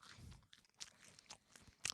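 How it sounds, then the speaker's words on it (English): Quiet, crisp crunches of crusty bread being bitten and chewed, a few sharp bursts spaced irregularly with soft pauses between. "That's the bread crunching. That's not the chicken."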